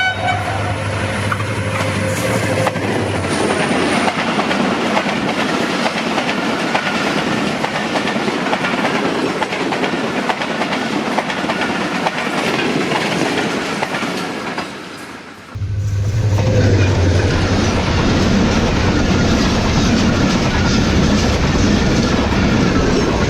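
A Karakoram Express passenger train on Pakistan's ML1 main line runs past a station near Lahore, with a loud, continuous rumble and rhythmic wheel clatter throughout, briefly dipping before the roar resumes at full strength.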